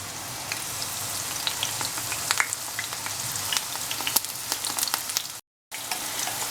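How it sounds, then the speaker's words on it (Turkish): Eggplants sizzling in about half a tea glass of hot vegetable oil in a pan, a steady close crackle with scattered sharp pops that continues almost throughout, broken by a brief silent gap. "Isıyan yağımızın içine patlıcanlarımızı dizelim."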